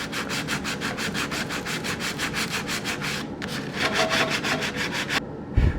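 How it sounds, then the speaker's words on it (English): Rapid rhythmic back-and-forth sanding on wood, close and steady, pausing briefly twice before resuming. "what I got to do now is a little sanding on it"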